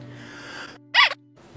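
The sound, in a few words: sneeze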